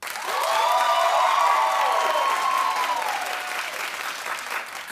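A talk-show studio audience claps loudly for several seconds in a standing ovation, with a few whoops rising over the applause before it gradually thins out.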